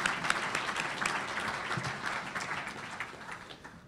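A county presentation audience breaks into dense, steady applause that holds for a few seconds, moderately loud and slowly thinning.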